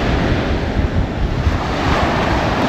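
Ocean surf rolls and breaks steadily on the beach at Robert Moses State Park on Long Island, a continuous loud wash of broadband roar with wind buffeting the microphone and no voices.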